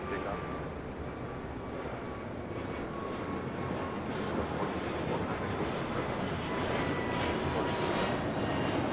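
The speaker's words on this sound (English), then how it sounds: "On the Pan Airways Flight 6, coming in from Tokyo Narita, 787-9 Dreamliner" Boeing 787-9 Dreamliner arriving at LAX from Tokyo Narita, a continuous broad jet rumble that builds slowly, heard outdoors against light wind, with a voice talking over it.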